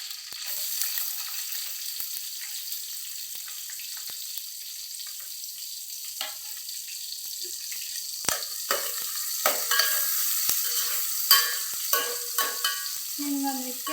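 Curry leaves and chopped onion tempering in hot oil in a pan, a steady crackling sizzle with sharper pops and spatters growing denser toward the end, close and fairly quiet.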